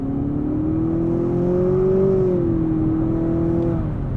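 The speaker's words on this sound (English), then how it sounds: "once the transmission gets up there and the engine starts pulling, it does pull hard" A 2020 Nissan Altima Platinum turbo engine pulls steadily under acceleration while driving, a smooth continuous drone that rises slightly in pitch midway, then settles again, heard from inside the cabin with no talking.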